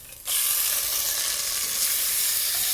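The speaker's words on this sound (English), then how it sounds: "All these tomatoes can go straight into that pan." Tomatoes tipped into a hot pan of browned beef for a stifado, setting off a sudden loud burst of sizzling that holds as a dense, steady hiss.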